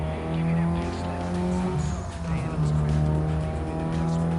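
A stock Volkswagen Golf GTI drives in a video game, its engine holding a steady buzzing tone with brief tire squeal, while a person talks over it.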